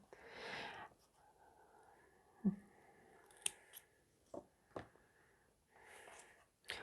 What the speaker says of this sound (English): at this point, I can cut it if I want to right now